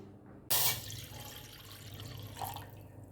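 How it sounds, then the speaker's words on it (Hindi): Water splashes in with a sudden burst, then keeps running steadily into a pot for masala chai, close by and fairly quiet, with no talking. "अब हम रखते हैं पानी"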